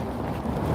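Heavy low rumbling buffets of wind hit a microphone tucked inside a jacket on a cold, windy day, a continuous muffled roar with no voices.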